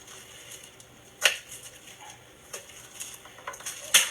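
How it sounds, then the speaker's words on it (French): A knife cuts pearl onions on a board, giving light, scattered taps and clicks with two sharper knocks, close and fairly quiet, with no talking over it. "je suis en train de me couper les oignons"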